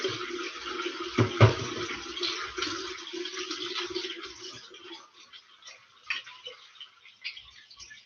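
Tap water runs into a kitchen sink while hands are washed, a soft steady stream that fades toward the end, with a few light clinks.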